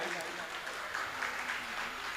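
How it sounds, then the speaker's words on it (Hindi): Audience applause for a pastor at a 40th ruby wedding anniversary celebration, a steady wash of clapping under a voice, moderately loud and continuous. "बहुत सारी तालियां बजाई जाएं"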